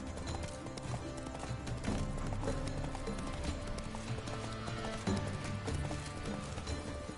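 Roach, Geralt's horse in The Witcher 3, trotting with a steady, close rhythmic clip-clop of hooves that continues throughout, backed by a busy game soundscape.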